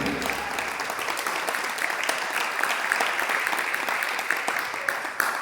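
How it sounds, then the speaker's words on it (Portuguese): A church congregation applauds steadily throughout, a dense, continuous wash of clapping from many hands filling the room at an even level from start to finish. "Se você crê, aplauda o nome de Jesus aí"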